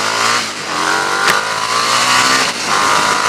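A Harley-Davidson Street 750 motorcycle engine revs loud and close, its pitch sweeping up and down across a few seconds with a sharp shift near the middle, with no talking over it.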